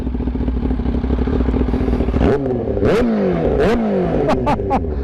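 A souped-up Suzuki Hayabusa motorcycle revving hard up close, its loud engine snarling through repeated sharp rises and falls in pitch with rattling clatter, no voices over it.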